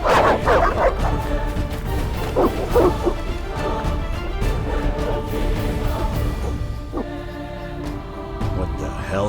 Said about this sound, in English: They are evil dogs.